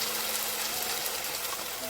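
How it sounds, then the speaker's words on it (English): Chicken broth poured into a soup pot with a steady, close, hissing gush of liquid that runs unbroken for a couple of seconds. "Now we add the chicken broth"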